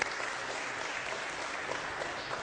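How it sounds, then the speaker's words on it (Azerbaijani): An audience applauds an ensemble on an Azerbaijani stage show, with steady, even clapping that fills the whole stretch at a fairly soft level, with no voices over it. "Bir alqış gəlsin."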